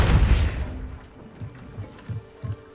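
A Depulso spell blast in Hogwarts Legacy hits with a loud, close boom that quickly fades, followed by a few soft, low thuds.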